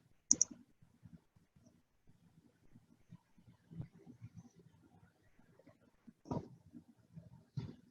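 A computer mouse clicks a few times, with a sharp click at the start and more later, spaced irregularly over faint low rustling in a quiet room.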